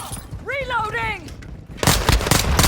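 Pistol gunfire in the Call of Duty video game, with dual akimbo pistols, erupts as a rapid, loud burst of close shots near the end, after a brief game voice call.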